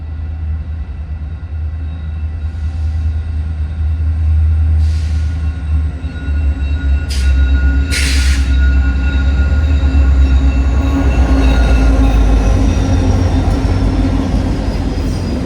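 Wisconsin & Southern SD60M locomotive 6031, the two-window unit, leading a northbound freight at night, a loud steady diesel rumble with rolling wheel noise and faint squeals as cars pass close by.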